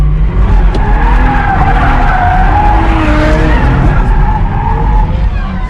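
An automatic V6 Chevrolet Camaro drifts on a track with loud, continuous tire squeal and skidding over a roaring engine, close and sustained throughout.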